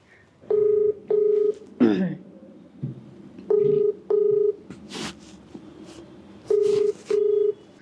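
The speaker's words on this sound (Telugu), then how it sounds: "మీరు ఓకే అంటే ఒకసారి కాల్ చేస్తాను" Push-button telephone dialing tones sound in three pairs of steady, evenly spaced beeps while a call is placed, with short rustles and muffled noises between them.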